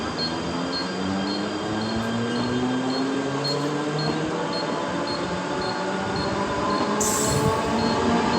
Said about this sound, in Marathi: प्लॅटफॉर्म क्रमांक 2 पर आई हुई लोकल 2:24 की मुंबई छत्रपति शिवाजी महाराज टर्मिनस जाने वाली हिनी लोकल है